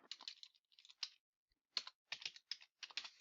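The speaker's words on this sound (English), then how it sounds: "Try not to type faster than you actually can." Typing on a computer keyboard into a database search box comes through as quick, close clusters of crisp key clicks separated by short pauses, alone without talk.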